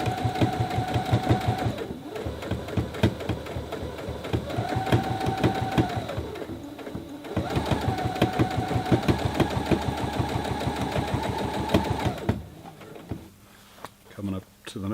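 A Brother CE1100PRW sewing machine stitches a jeans hem. The rapid, steady mechanical stitching is heard close up, pausing briefly around two and seven seconds and stopping near the twelve-second mark, with some handling noise after.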